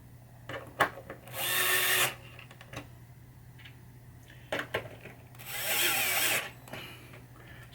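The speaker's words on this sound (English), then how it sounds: "Screwdriver's a DeWalt, in case you're wondering." A DeWalt gyroscopic electric screwdriver drives screws into Bally Zenon pinball playfield wall art in two whirring bursts of about a second each, with scattered clicks and handling knocks between them and no talk.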